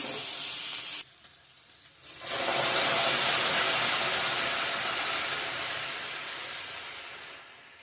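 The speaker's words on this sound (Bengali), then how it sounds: "জল অ্যাড করবো এখন, গরম জল।" Hot water poured onto frying meat in a pan bursts into a loud, dense sizzle that surges after a brief lull, then hisses steadily and slowly fades, heard close with no talking.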